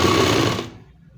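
An electric sewing machine stitches a folded churidar hem with a loud, close whirring run that cuts off sharply about halfway through and leaves near silence.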